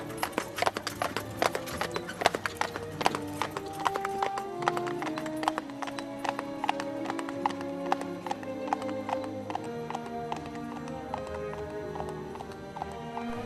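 Several horses ride off along a hard road, their hooves clip-clopping in a steady, overlapping rhythm that stays fairly close, with an occasional whinny mixed in.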